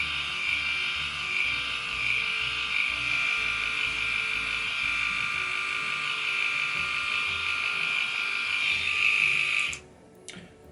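Bumzzy 2.0 electric body shaver trimming underarm hair, a steady close, loud buzzing hum that runs for nearly ten seconds before cutting off abruptly, leaving quiet.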